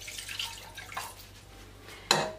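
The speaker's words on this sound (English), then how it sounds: "add a little bit of water." Water is poured into a cooking pot while okro soup is being made, giving a soft splashing trickle that fades, then a brief sharper splash near the end.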